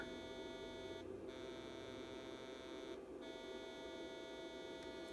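A synthesizer holds a steady buzzy tone rich in stacked harmonics, alternating between sawtooth and square waveforms, with two brief dips in the sound and no talking over it.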